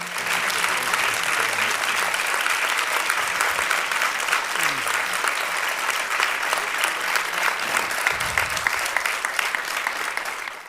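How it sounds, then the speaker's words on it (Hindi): A large crowd applauds steadily and loudly throughout, a dense continuous wash of clapping with no gaps. "आपकी तालियां बता रही है कि आपको पसंद आया"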